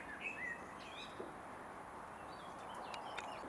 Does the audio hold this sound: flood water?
no